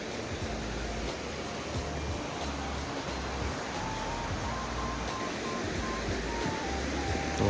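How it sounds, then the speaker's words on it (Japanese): Water tumbles over a waterfall in Takachiho gorge, a constant broadband roar that stays at an even level throughout with no talking. "こっちは滝になってる。"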